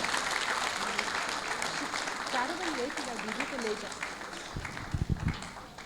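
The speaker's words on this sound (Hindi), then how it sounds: "सभी एक बार ताली बजा करके हमारे" An audience at an opening session of a spiritual gathering applauds in a steady wash of clapping, while someone speaks over it through a microphone.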